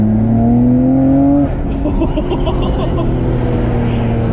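Nissan Skyline R34 GTR accelerating hard, with a loud, rising engine drone that shifts pitch and turbo whooshes and flutters from close inside the car.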